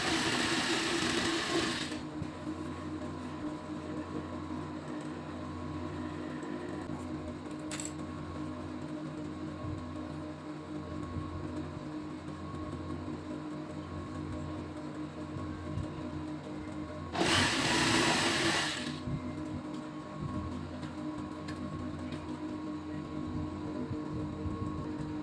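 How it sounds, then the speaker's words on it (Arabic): A sewing machine runs steadily for a long stretch while it stitches elastic onto a fitted bed sheet, a low continuous mechanical hum broken by two louder bursts of rustling fabric handling. "كده بدخل الاستك كده جوه وبخيط على الحته الفاضيه دي"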